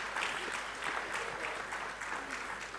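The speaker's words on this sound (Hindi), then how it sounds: "कम से कम तालियां उनकी तरफ से तो होनी चाहिए" An audience at a naval ship launch in Goa claps for the women seated among them, a fairly quiet, even wash of many hands clapping that continues steadily without any speech.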